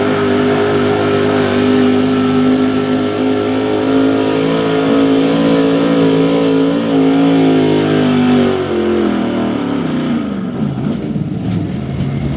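A big-block high-output 1969 Chevy K20 truck at a truck pull, its engine holding a loud, sustained drone and rev close by before the pitch drops and roughens near the end.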